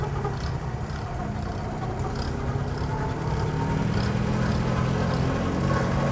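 On a tractor, a gasoline pony engine cranks the diesel engine in a continuous, close, rumbling drone that grows a little louder partway through.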